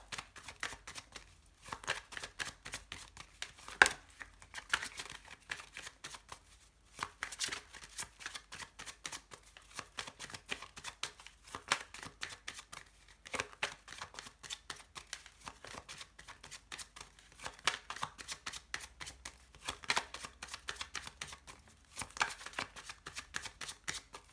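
Lenormand fortune-telling cards being shuffled by hand, with quiet rapid riffling flutters and soft slaps repeating in steady bursts across the clip and short pauses between runs, no talking.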